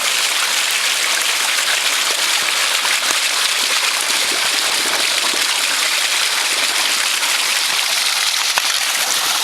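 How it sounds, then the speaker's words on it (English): Water gushes out of a failing ram pump as debris is flushed from it, a loud, continuous, close rushing hiss that stays steady throughout. "Oh yeah, look at all that debris come out of there"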